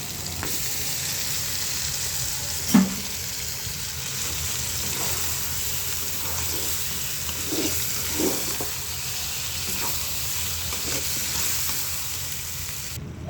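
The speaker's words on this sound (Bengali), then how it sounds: "মশলাটা কষানো হয়ে গেছে, এখন মাছ দিয়ে দিব" Loitta (Bombay duck) fish frying in a cooked-down paste of cumin, coriander, ginger and garlic, a steady close sizzle with occasional soft stirring scrapes and one brief clatter.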